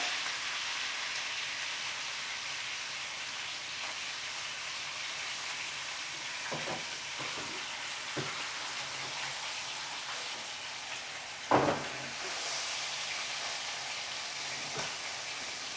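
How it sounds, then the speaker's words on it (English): Pot roast searing in a hot pan, a steady broadband sizzle with a few soft clinks and one sharp knock, no talking. "I'm just going to sear off the sides just a little bit"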